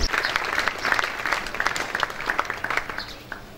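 A church congregation claps and cheers for Jesus, a dense burst of applause from many hands that rolls on steadily and then fades toward the end.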